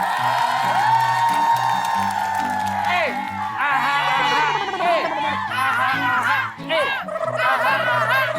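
A television game show studio audience of team supporters cheers and whoops loudly over a steady musical backing, with shouts rising and falling throughout.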